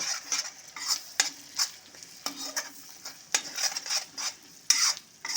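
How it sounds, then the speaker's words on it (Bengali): Chili powders and spices being stir-fried in hot oil in a pan, a close, steady sizzle broken by repeated scraping strokes of a spoon stirring every second or so, with no talk. "এখন আঁচটাকে মিডিয়ামে দিয়ে সমস্ত মশলার সাথে তেলের সাথে ভালো মতো করে কষে নেব"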